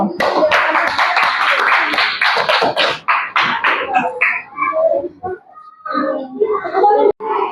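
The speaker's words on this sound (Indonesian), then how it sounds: "Tepuk tangan dulu" Children clap their hands in a classroom after a hand-skeleton model is shown moving, bursts of claps rising and fading with young voices chattering over them.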